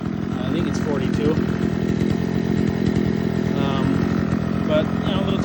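A small 42cc Craftsman homeowner chainsaw runs steadily close by, its raspy two-stroke engine buzzing continuously throughout while someone talks over it.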